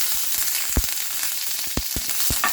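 Hot oil sizzles and crackles continuously as dried red chillies and curry leaves fry close by, with sharp pops bursting out irregularly; no speech.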